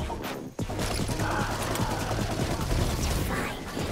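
Gunshots in the vampire-hunting shooter Redfall, a rapid run of loud cracks and mechanical clatter packed into a few seconds, with a brief gap early on.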